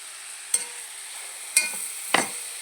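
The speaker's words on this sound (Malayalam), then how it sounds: "ഇതെല്ലാം ഒന്ന് നല്ലോണം ചുവച്ചക ഒന്ന് മൂത്ത് വരണേ" A pan of Malappuram-style chicken chepan varavu frying, with three distinct scraping stirs of a spoon through the sizzling masala over a low, steady hiss.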